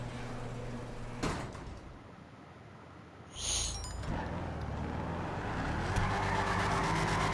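A sports classic car in a video game: a sharp clunk and a brief whirring sweep, then a steady engine hum that gradually rises in pitch and loudness.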